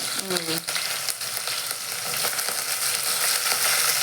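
Green chilli, onion and tomato are tempered in hot oil, producing a continuous close sizzle and crackle, with a short voice at the very start.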